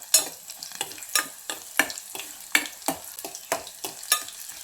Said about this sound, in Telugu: కొంచెం ఆయిల్ వేసుకుందాము ఇప్పుడు ఇందులో ఒక స్పూన్ ఆవాలండి ఒక హాఫ్ స్పూను జీలకర్ర అండి అలాగే ఒక మూడు ఎండుమిర్చి అండి